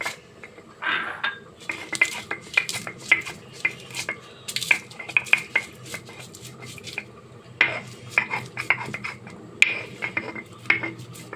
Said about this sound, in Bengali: আগে মরিচ গুঁড়ো করে নিই।